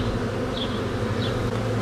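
Honeybees hum steadily at a working hive, a dense, continuous drone close by with no voices over it.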